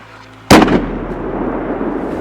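A single loud, sharp rifle shot cracks out during a public-land mule deer hunt in Colorado, with a sudden blast followed by a long fading rumble echoing across open terrain.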